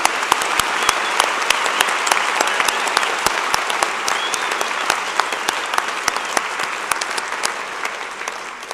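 A convocation audience applauds a university jazz band, a dense, sustained round of clapping from a large crowd with sharp individual claps standing out, continuous and steady throughout.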